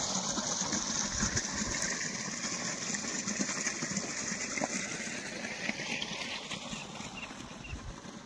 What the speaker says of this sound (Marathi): पाणी चालू आहे आता.